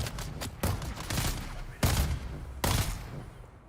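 Enemy gunners firing in the video game Dune: Awakening, bursts of rapid gunfire in several loud volleys that overlap and sustain across the stretch, close and dense with no talk over them.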